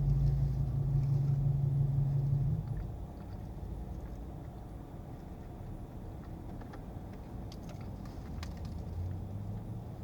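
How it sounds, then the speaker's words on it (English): A big truck idles next to a parked car, giving a low, steady engine rumble heard from inside, with a brief louder hum at the start before it settles into a quieter drone. "The truck pulled next to us."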